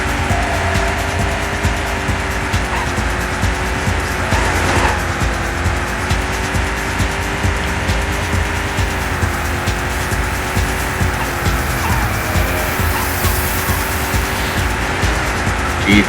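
Cars race in the video game P.O.D., with a loud, continuous engine roar and repeated tire squeals that run for about sixteen seconds with no voices over them.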